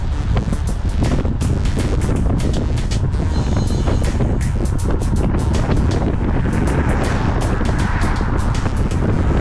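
Blustery, breezy wind buffets the microphone during a bike ride at around 20 miles an hour, a loud continuous roar with gusty bursts throughout.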